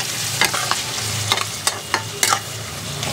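Onion and garlic sizzle as they are sautéed in a pot for mutton keema khichuri, a steady frying hiss broken by several sharp scraping stirs of a spoon against the pot, close and clear.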